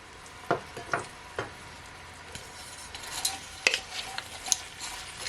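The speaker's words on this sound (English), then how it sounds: "Just gonna leave it to saute for at least 1 minute or so." Fish seasoning sautés in a frying pan, heard as a faint, soft sizzle broken by scattered light scrapes and taps of stirring.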